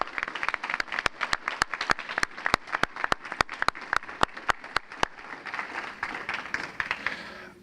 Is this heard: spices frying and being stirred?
no